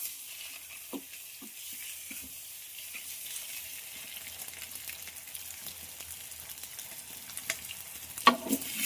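Eggs frying in a pan for an egg and drumstick curry give a steady, soft sizzle, close but fairly quiet, with a few light utensil taps and a sharper clink near the end.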